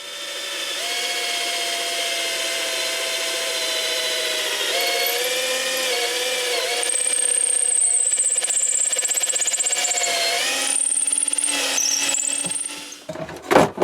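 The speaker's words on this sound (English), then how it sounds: "So right, we'll drill through both of these" A power drill boring through two pieces of scrap wood, with a sustained close whine whose pitch shifts as the bit loads up and speeds back up, ending in a few short knocks as it finishes.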